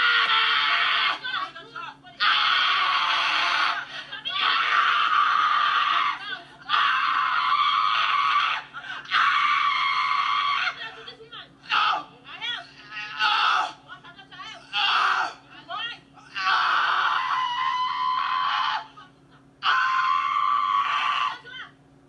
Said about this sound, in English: As the demons screaming.